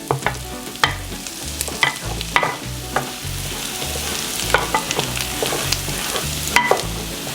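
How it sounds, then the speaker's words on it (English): Pork loin and vegetables sauteing in a pan with butter and garlic, a loud close sizzle broken by repeated clacks and scrapes of a utensil stirring at an irregular pace, with no talking. "and saute that for just a minute."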